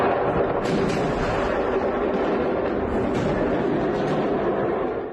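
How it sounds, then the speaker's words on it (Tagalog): A fireworks factory explosion in Malta leaves a sustained loud roaring rumble with dense crackling blasts throughout, steady and heavy for several seconds before fading at the end. "A sporadic blast sent shockwaves across Malta after a fireworks factory exploded."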